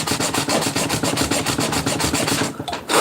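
Guitar fret ends being sanded down, a steady back-and-forth rasping in quick even strokes, close and loud, breaking off briefly near the end.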